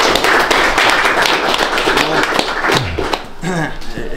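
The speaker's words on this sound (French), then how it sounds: "On peut applaudir le député." An audience at a local civic gathering claps for a deputy, a dense burst of hands that thins out toward the end, with voices talking beneath and after the clapping.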